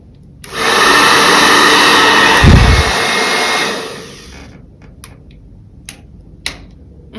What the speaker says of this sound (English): this hair dryer is equipped with a professional AC motor for an efficient, long-lasting, and all-out blowing performance.